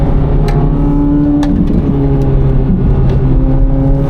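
A 670 HP 2024 Corvette Z06 engine pulling hard under acceleration, loud and close with a steady rising drone and brief shifts in pitch, no talking.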